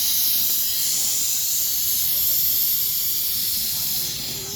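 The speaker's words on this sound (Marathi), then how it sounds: "आता कुकर काढायचं बघा शिट्टी येत आहे त्याला" A pressure cooker on a wood-fired stove, cooking mutton curry, releases steam in a loud, continuous hissing whistle that holds steady and eases off slightly at the end.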